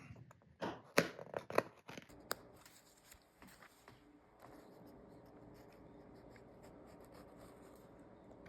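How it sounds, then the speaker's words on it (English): Blade cutting through a tanned coyote fur hide along a marked line while making a fur hat, giving short close scraping and snipping strokes in the first two seconds, then a quiet rustling hiss. "just cut right along that line until it just goes through, and not try to cut the hair on the back side"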